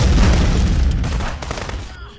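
An explosion in the Contraband Police video game hits loud at the start, its heavy rumble fading away over about two seconds, with scattered gunfire-like crackles and a faint voice in the tail.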